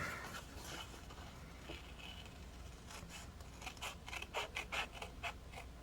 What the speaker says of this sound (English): Now we're going to fussy cut this one out.